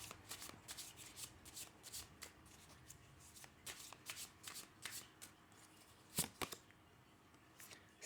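A deck of oracle cards is shuffled by hand in soft, irregular bursts of riffling and sliding, close and quiet, with a sharper flurry near the middle.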